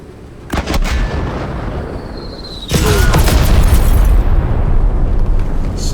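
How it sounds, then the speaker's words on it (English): Heavy mortar fire in the video game Menace: a sharp launch thump, then a rumbling roll of explosions swelling into a loud, sustained barrage of booms and blasts. "This heavy mortar is extremely good."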